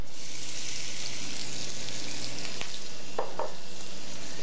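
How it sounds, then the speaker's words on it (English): Garlic and chopped red onion fry in a hot pan, a steady close sizzle with occasional stirring scrapes and light pops, continuous and unbroken by voices. "now we're going to add the garlic and the chopped red onion"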